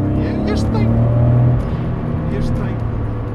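A Nissan 300 ZX twin turbo with a dump valve drones loudly at close range, engine note holding through the first half before easing off, with a couple of short hissy bursts and a person talking over it.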